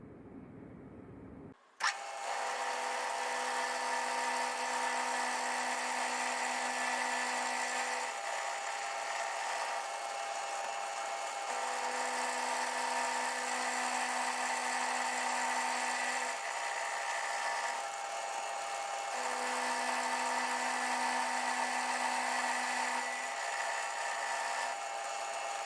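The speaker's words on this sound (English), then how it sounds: "because of this very narrow section that I'm clamping down on, I'm going to take step cuts to reduce the amount of cutting force" A small machine tool taking light step cuts on the column of a wig-wag steam engine build, a loud, steady high-pitched cutting whine that starts abruptly after a brief quiet moment and holds for a long stretch with periodic tonal shifts as passes change.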